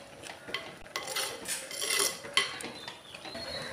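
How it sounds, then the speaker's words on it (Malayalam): A spoon scrapes and stirs dried prawns with coconut pieces in an open pan on the stove, giving soft irregular rubbing and clinking close up, fairly quiet, with no voices. "മൂടി തുറന്നിട്ട് നമുക്ക് നന്നായിട്ടൊന്ന് ഇളക്കി കൊടുക്കാം."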